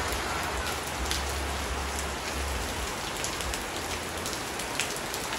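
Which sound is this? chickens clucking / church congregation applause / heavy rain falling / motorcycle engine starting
heavy rain falling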